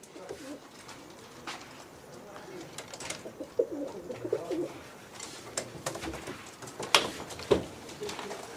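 Pigeons coo softly and repeatedly in a loft, with low rolling calls recurring through the clip amid faint background rustle and distant noise.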